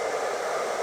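A hair dryer blowing on freshly cut wet hair, a steady close whooshing roar with no pauses.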